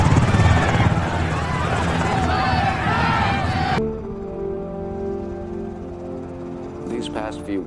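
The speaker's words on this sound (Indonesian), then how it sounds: "lalu datanglah sebuah helikopter yang membawa mereka ke tempat yang lebih aman" A helicopter arrives in a film, its rotor wash loud and dense under the scene, then it drops to a steadier, lower droning hum as other sounds and some voices drift in.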